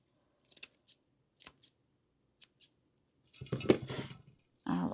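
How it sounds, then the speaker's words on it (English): Scissors snipping ribbon on a Dollar Tree sign, several short crisp close cuts spaced apart, followed by rustling handling noise and a brief louder burst at the end. "I'm going to go ahead and just cut some of this off"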